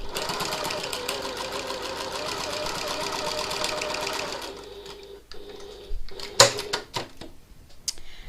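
A sewing machine runs steadily at regular stitch length, stitching the lining and exterior of a piped pocket tote bag, with a dense rapid whir for about four seconds, then stopping, followed by scattered handling clicks and a sharp knock.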